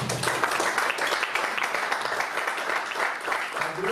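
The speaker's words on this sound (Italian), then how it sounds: "Io lo saluterei con un applauso." Audience applause at a talk on the origins of Galatina, a steady dense clapping that fills the whole stretch at moderate loudness with no voices over it.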